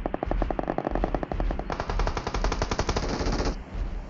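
In PUBG Mobile on the Erangel map, automatic gunfire rattles in rapid, evenly spaced bursts almost without a break. The loud cracking volleys run over about four seconds, with a denser, faster stretch in the middle.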